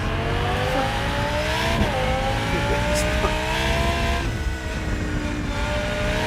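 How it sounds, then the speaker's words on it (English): A race car engine in the sim racing game Rennsport revs loudly and steadily, its pitch rising and then dipping at a gear change near two seconds, with faint tire noise underneath. "I can hear the engine note. I can hear when I need to change gear."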